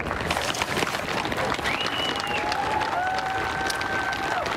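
Steady applause from a large crowd after a presidential inaugural address, a continuous dense wash of clapping with faint whistle-like tones drifting over it.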